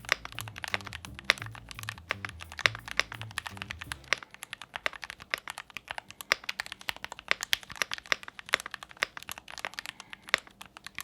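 Rapid, clacky keystrokes of a mechanical keyboard with its case foam removed tap away continuously, close up, with a brief low tone at the start before the typing continues alone.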